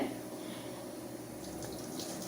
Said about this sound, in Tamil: ஊற வச்ச தண்ணி மட்டும் லைட்டாக அலசி விட்டு தண்ணியை மட்டும் வடித்து எடுத்தால் போதும்